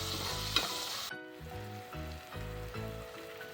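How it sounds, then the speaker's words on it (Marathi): Tomatoes sautéing in a pan for kantola bhaji, a bright sizzle that cuts off after about a second, followed by quieter frying with soft rhythmic stirring, close. "आता आपण टोमॅटो टाकूया. टोमॅटो पण नरम होईपर्यंत परतून घेऊया."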